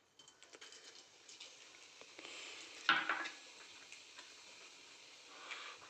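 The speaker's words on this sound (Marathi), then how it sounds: "आता मी फोडणी करतो तूप चांगलं आपलं तापलं आहे आता त्यात आपण जिरे टाकून घेऊ" Soft crackling sizzle as cumin seeds hit hot ghee, starting quietly, rising to a brief sharp burst of spitting, then settling into a gentle fizz.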